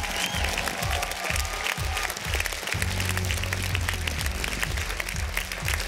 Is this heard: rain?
no